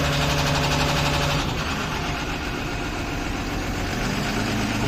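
A car engine with a cylinder fault idles steadily at close range, its low rumble uneven and faintly sputtering throughout.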